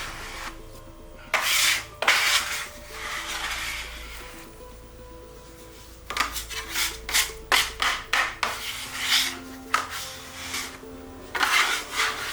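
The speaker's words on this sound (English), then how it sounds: "Using my bench scraper, I'll bring the dough together, creating some surface tension until I have a beautiful ball of dough" A bench scraper works pizza dough into a ball on a counter, giving bursts of scraping and rubbing strokes: two strokes early, a pause, then a quick run of repeated scrapes, close and clear.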